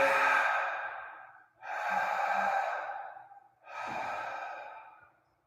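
Deep, slow breathing close to the microphone: three long airy breaths, each swelling and then trailing off, separated by brief pauses, with no speech.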